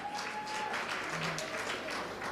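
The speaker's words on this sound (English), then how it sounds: "A huge round of applause as they make their way to their seats." Applause from an awards ceremony audience as student performers leave the stage, a steady even wash of clapping that runs the whole time without pause.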